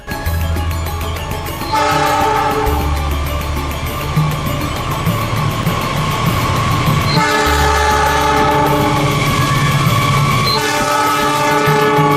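A container train rolls past with a steady rumble and wheel clatter while its horn blasts three times, each blast long and loud, the horn chord clear above the noise of the passing wagons.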